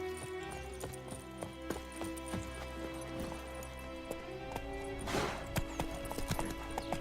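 The horse Roach gallops in The Witcher 3 with steady, rhythmic clip-clop hoofbeats, moderately loud, over a constant droning game soundscape with a brief rustling burst near the end.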